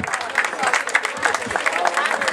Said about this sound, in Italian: E l'applauso di Marina di Camerota per questi splendidi giovanissimi protagonisti